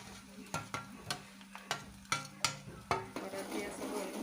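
Ginger-garlic paste fries in oil in a pan for a homemade chicken curry, with a steady low sizzle broken by repeated sharp scraping stirs roughly every half second, close and moderately loud.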